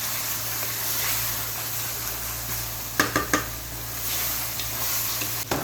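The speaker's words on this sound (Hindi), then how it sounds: "अब 1 से 2 मिनट इस तरीके से मैं इसको गोश्त को फ्राई करूंगी" Mutton with spices fries in a pot over low heat, giving a steady, close sizzle throughout. A few sharp clanks from stirring come midway and near the end, with no talk.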